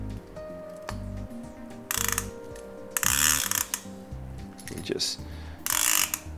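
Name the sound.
clicker ratchet of a Chinese conventional fishing reel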